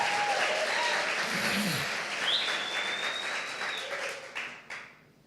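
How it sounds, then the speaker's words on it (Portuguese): A church congregation claps together in steady applause that fades toward the end, with faint whoops and voices mixed in. "Você podia dar um aplauso a Jesus, fazer um barulho, dizer alguma coisa?"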